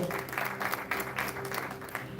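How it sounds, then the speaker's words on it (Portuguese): Applause from a church congregation during a Portuguese-language family worship service, a steady patter of clapping sustained throughout at moderate distance, with faint voices and a held tone underneath. "Aplaude ao Senhor."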